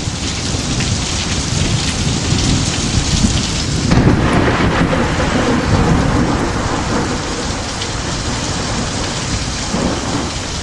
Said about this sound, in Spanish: la lluvia cae... ...son ya 4 días... ...sin parar de llover